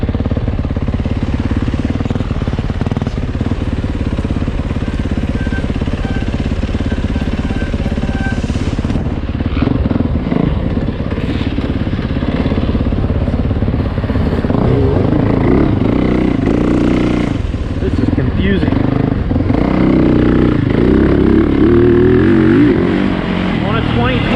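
A 2020 Yamaha YZ450FX motorcycle being ridden, its engine a steady, rough drone that rises and falls throughout, with a voice talking over it.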